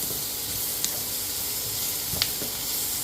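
Tomatoes with the seeds removed go into a hot frying pan and hiss in a bright, continuous sizzle, with two sharp spits or pops standing out; no voices.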